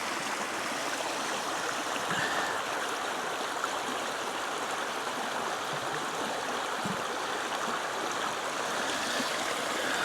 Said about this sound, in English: So I'm gonna get stream water here.